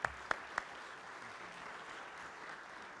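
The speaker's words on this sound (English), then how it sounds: "give yourselves a round of applause" Rotary club audience applause in Toledo, heard as a soft, distant patter of many hands in a room, with three sharper nearby claps standing out at the start.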